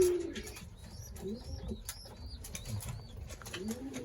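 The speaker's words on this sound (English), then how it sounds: "We got Beardo feeding his babies over there on the right." Pigeons in a loft during breeding season, with feeding young nearby: soft repeated cooing and chirping calls with occasional wing flaps over a steady low background rumble.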